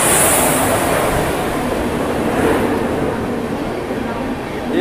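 Mumbai Pune Deccan Express, train number 11007, rolls in during heavy monsoon weather, a broad loud rumble and rush with no clear individual clanks, swelling slightly midway.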